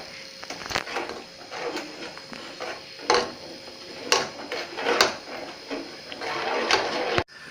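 Semiya payasam being stirred in a pot after a ground cardamom and sugar mix is added, giving repeated scraping and clinking strokes of a spoon against the metal, fairly close and irregular, with no talk.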